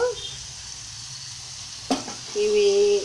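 Bottle gourd pieces cook in oil with chili powder, salt and turmeric, giving a low, steady sizzle with one sharp clatter midway and a faint tonal hum toward the end.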